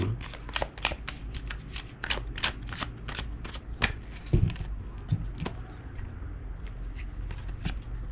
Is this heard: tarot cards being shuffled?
yes